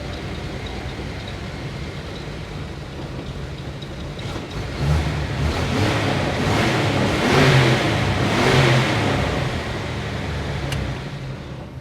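The original engine of a 1952 Chevrolet Styleline Deluxe runs steadily at idle, rumbling and slightly uneven, with the level swelling briefly in the middle before settling again.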